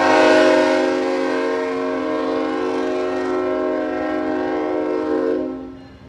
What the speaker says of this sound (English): Vishnu, we'll wait till the train